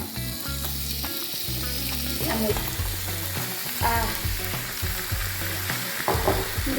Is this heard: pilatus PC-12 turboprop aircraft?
no